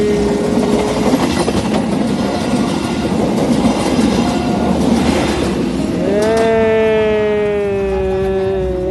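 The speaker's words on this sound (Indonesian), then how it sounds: "Ini loh kereta apinya, Nak." Train passing by at close range, a rolling rumble and clatter of wagons that ends in a loud, sustained horn blast.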